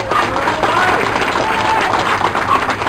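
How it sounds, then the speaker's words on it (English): Applause from an audience gathered outdoors at the opening of a dog park, a steady broadband patter of clapping that holds evenly for the whole stretch with no voice over it. "let's give him a round of applause"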